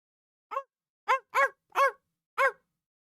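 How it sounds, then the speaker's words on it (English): A small dog gives five short, sharp barks spaced out over a few seconds, each bark isolated against silence and fairly close, with a yappy, high-pitched quality. "he sounds like a chihuahua, not like a bloodhound bark"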